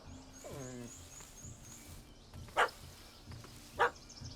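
Two short, sharp dog barks ring out about a second apart in a video game setting, the dog harassing a cat up a tree, over a faint ambient background with a brief whine earlier.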